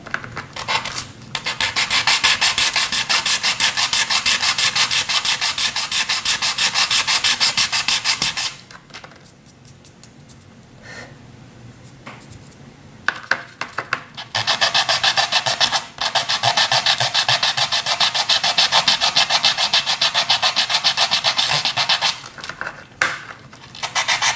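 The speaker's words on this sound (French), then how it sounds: "en fait ça se ponce très bien avec ça" Cured resin sanded with a fine-grit nail file block, close continuous rasping strokes in long steady runs, a quieter pause in the middle with a few short scrapes, then sanding resumes.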